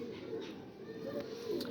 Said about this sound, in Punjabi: ਇਹ ਵਾ ਜੀ ਉਹ ਕਬੂਤਰ, ਨਯਾਬ ਕਬੂਤਰ ਸਰ